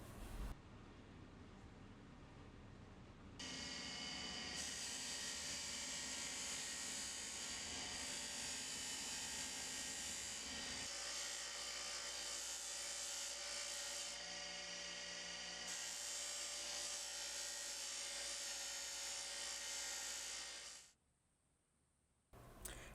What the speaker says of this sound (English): Now I'll go ahead and apply some wax using my buffing wheel.